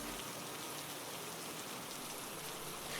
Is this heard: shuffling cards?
no